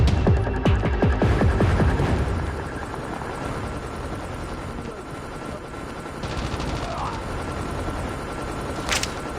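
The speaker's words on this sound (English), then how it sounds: "Friendly stealth chopper inbound." A stealth helicopter in Call of Duty Mobile during a capture-the-flag match, heard as a steady loud rotor throb with a burst of rapid gunfire at the start and continuous battle noise throughout.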